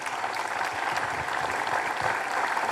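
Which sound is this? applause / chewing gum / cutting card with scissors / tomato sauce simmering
applause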